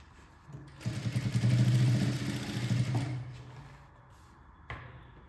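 A sewing machine runs a short burst of stitching at the shoulder of a baby frock, whirring loudly for about two seconds and then slowing to a stop, followed by a single click.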